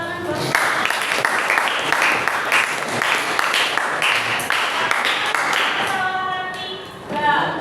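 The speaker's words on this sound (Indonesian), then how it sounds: "Beri tepuk tangan buat" A classroom of students claps for a group after a maths answer, a burst of fairly loud, close clapping that carries for several seconds and then fades into scattered claps and a few voices.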